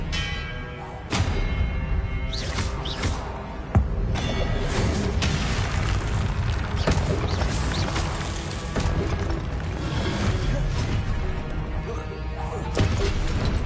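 Spell combat in Hogwarts Legacy with an Expelliarmus cast amid a dense, loud run of crashes, whacks and booming impacts, several sharp hits landing in quick succession over a busy, continuous din.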